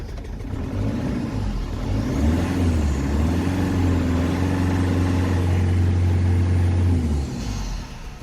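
An old car engine turns over and catches from a cold start, settling into a steady, loud, close idle that runs for several seconds before cutting off, with no talk over it.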